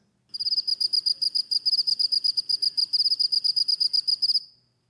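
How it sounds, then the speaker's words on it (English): A male cricket gives its calling song, a loud, close series of rapid, evenly spaced high chirps repeating for about four seconds with no other sound. "the crickets produce a conspicuous calling song like many cricket species"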